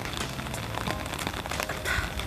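Rain patters steadily on surfaces in Showa Kinen Park among wet Somei-Yoshino and Yoko cherry trees, a dense close hiss of drops with scattered sharper taps and no voices.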